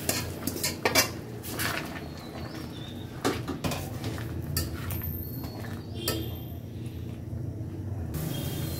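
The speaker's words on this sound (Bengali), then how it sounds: "ঢাকনাটা দিয়ে রাখলাম যাতে ঘ্রাণটা বের হয়ে না যায়।" A lid is set on a cooking pot of dal tempered with garlic, onion, dried chilies and panch phoron, giving a few sharp metallic clinks and clatters over a steady kitchen background, with faint birdsong.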